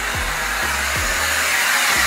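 An AquaAir wet/dry vacuum cleaner runs close by with a loud, steady motor roar and airy rush that holds even for about two seconds, with a few faint low thumps beneath and no voices.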